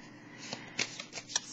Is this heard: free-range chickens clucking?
no